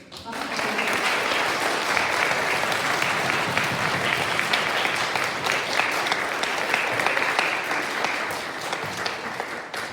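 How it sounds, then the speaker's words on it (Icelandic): Sustained applause from a school-closing ceremony audience honoring departing teachers, a dense, steady wash of many hands clapping for the full duration, fairly close and loud, with faint voices mixed in. "Við skulum klappa vel fyrir þeim."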